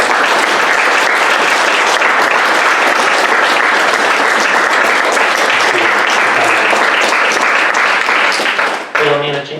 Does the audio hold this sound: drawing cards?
no